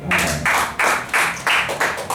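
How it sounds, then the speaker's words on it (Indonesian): Rhythmic bursts of clapping come in short repeated waves, about seven claps in a steady beat, loud and close, like an audience clapping in unison. "Tepuk tangan dulu"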